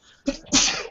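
A single person sneezes twice in quick succession, two sharp, loud bursts of breath close to the listener, with no other talk.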